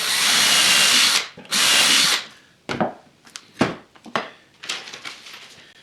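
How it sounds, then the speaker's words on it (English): A power drill bores a pilot hole into the wooden part of a box joint jig, giving two loud close whirring bursts followed by quieter knocks and clicks of handling. "drill a pilot hole."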